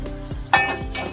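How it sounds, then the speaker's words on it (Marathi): Onion frying in a pan with garlic, curry leaves, mustard seeds and asafoetida for a toor dal amti, a soft close sizzle with a few stirring scrapes and one brighter burst of hissing. "कांदा थोडा भाजून घेऊया चांगला,"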